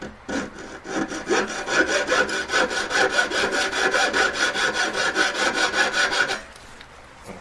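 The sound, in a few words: saw blade cutting through a metal hoop earring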